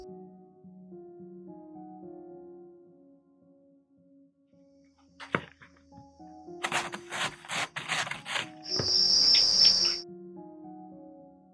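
Crickets at a village cricket farm in Laos, a faint high chirping that becomes a loud close burst of rapid trilling near the end, with scattered clicks and rustling handling noises.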